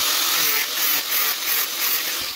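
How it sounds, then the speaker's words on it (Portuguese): A loud, steady high-pitched angle grinder whine grinds on continuously, its intensity dipping and swelling slightly as the disc bites into metal pipe. "Então vamos lá, vou ligar a lixadeira aqui."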